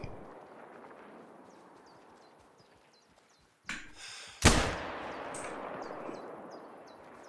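A hunting rifle fires in The Hunter: Call of the Wild. One sharp, loud report lands over quiet outdoor ambience, just after a softer thump, and then fades into a short echo tail.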